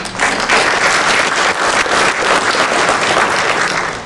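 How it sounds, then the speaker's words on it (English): A loud, close crowd applauds at an Ahmadiyya Muslim community celebration in Sydney marking 100 years of Khilafat, with thick, continuous clapping that fills the whole stretch before easing slightly at the end. "So I give you all a round of applause for coming here tonight"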